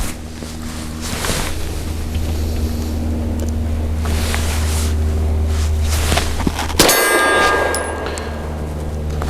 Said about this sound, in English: I've got 10 rounds, piece of steel down there at about 20 meters, and these are my first shots.